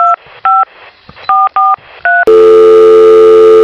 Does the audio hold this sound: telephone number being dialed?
yes